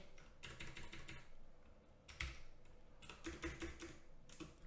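Fingers type out a Haskell definition on a computer keyboard: quick, close bursts of clicking keystrokes with brief pauses between runs, and no talking.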